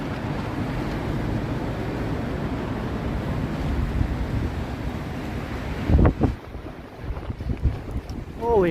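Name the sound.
strong wind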